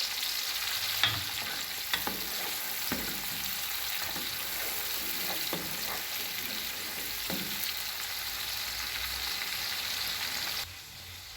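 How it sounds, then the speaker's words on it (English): Onions frying in a pot as the base for a Nigerian stew, a steady close hissing sizzle with occasional soft stirring scrapes and clinks, no talking. "I let it fry a bit so that the scent of the onions will come out."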